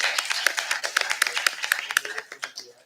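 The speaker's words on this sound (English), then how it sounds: "So a round of applause for them." Audience applause for candidates after nearly two hours of intense questioning: a brisk round of clapping from a modest crowd, steady for a couple of seconds, then thinning out and fading toward the end.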